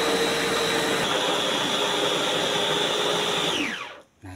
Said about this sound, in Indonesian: Nah, ini udah ngepas, kita blender.